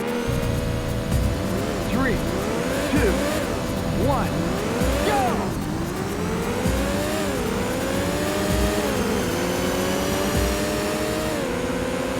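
A Porsche races in Need for Speed Porsche Unleashed on PS1, its engine revving and shifting through rising and falling pitch sweeps, tires squealing briefly, engine tone loud and continuous throughout.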